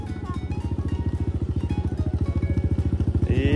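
A motorcycle engine revs in a steady, loud, close chugging pulse that quickens and swells slightly toward the end as it picks up speed, with no talk over it.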